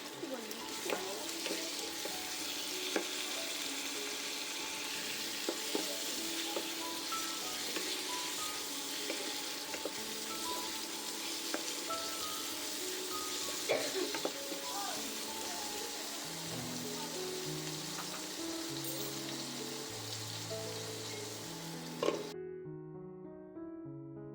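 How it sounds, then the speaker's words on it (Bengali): Whole tomatoes stirred with salt in a cooking pan for a duck meat curry give a steady frying sizzle with repeated scraping stirs; soft tonal music rises near the end. "এইভাবে ভালো করে নুন দিয়ে নেড়ে তারপর চাপা দিয়ে আমি কিন্তু একদম টমেটোকে একদম নরম করে নেব।"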